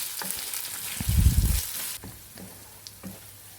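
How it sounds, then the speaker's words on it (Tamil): Onions and ginger-garlic paste sautéing in oil, a hissing sizzle broken by a loud scraping stir burst, then quieter frying with a few spoon taps. "இஞ்சி பூண்டு பேஸ்ட்டு சேர்த்த பிறகு அதோட ராஸ்மெல் போகிற வரைக்கும் நல்லா வந்து வதக்கி விட்டுக்குவோம்."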